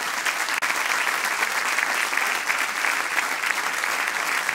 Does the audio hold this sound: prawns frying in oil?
no